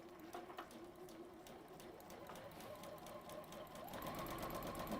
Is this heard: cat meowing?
no